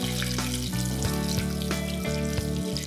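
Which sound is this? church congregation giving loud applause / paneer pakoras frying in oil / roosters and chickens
paneer pakoras frying in oil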